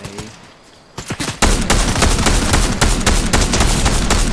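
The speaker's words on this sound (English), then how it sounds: "Yeah, he's shooting at me too." Fortnite gunfire erupting in rapid, loud bursts, a few scattered shots at first and then dense continuous automatic fire at close range, with no talking over it.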